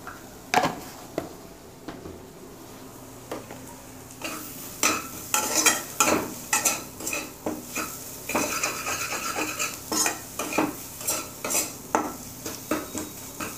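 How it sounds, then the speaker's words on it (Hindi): A spoon stirs a potato mixture with salt in a metal pan, scraping and clinking in a steady rhythm of repeated close strokes with faint sizzling underneath, no voices. "सॉल्ट हमारा अच्छे से मिक्स हो गया है"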